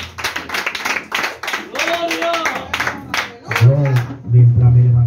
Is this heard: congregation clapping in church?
yes